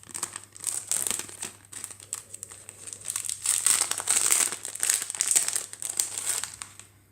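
Close, crisp crinkling of kraft paper wrapping rustles on and off in uneven bursts, with no speech.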